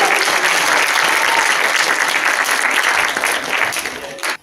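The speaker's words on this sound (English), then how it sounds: "So give them all a round of applause." A live audience at a museum gaming show claps loudly and steadily in a dense wash of applause that thins slightly toward the end.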